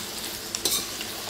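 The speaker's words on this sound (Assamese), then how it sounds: "মই লৰাই আছোঁ" Duck meat frying in a pan is stirred with a utensil, giving a steady close sizzle with a couple of quick scraping clinks against the pan.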